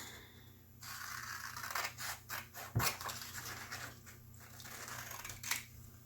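Scissors cutting paper for a patchwork journal page, a series of close, soft snips and rustling scrapes at an uneven rhythm, quiet with no talking.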